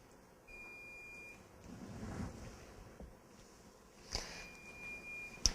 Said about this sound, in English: You can hear the alarm going off and it's saying check dressing seal